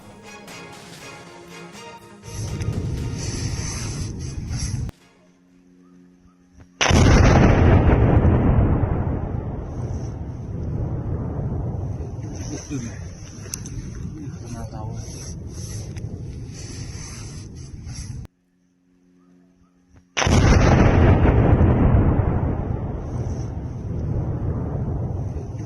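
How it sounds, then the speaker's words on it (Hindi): Army demolition of a cave used as a hideout in Jammu and Kashmir, heard as loud, sustained roaring blast rumbles with wind-buffeted noise, twice breaking off abruptly and resuming at full force, no voices. "जिस गुफा में ये आतंकी छिपे थे उसे उड़ा दिया।"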